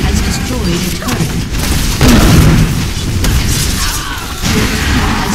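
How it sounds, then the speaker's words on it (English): Turrets are destroyed in League of Legends gameplay, giving loud booming, crumbling explosion bursts over dense game effects and music, with an announcer voice speaking over the action. "Your team has destroyed a turret."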